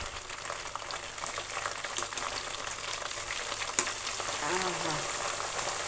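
Hair oil mixture simmering in a pan, a steady soft bubbling and sizzling hiss at close range with a single brief clink partway through.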